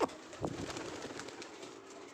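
Giribaz pigeons at a home loft coo softly, with a brief call near the start and a low, faint murmur of cooing and light chirps after it.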